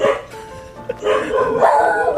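Dog barks loudly and close by in a series of yaps and howling calls over about two seconds, mixed with background noise indoors.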